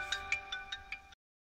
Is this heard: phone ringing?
yes